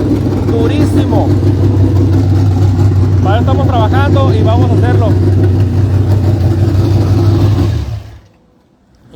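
Modified car engine with a deep, continuous idle rumble and slight revving under someone speaking Spanish, before the sound cuts off sharply near the end.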